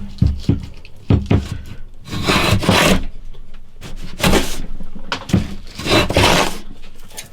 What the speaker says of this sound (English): think that's probably the end of planing